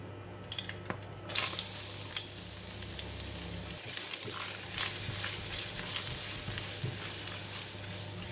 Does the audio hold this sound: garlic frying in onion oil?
yes